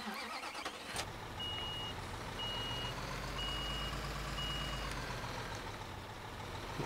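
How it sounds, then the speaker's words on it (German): A truck in the construction game Bau-Simulator 2015 reverses and pulls out: a low engine rumble runs throughout while an evenly spaced reversing beep sounds four times, with a sharp knock near the start. "dann fahren wir noch mit dem LKW wieder raus"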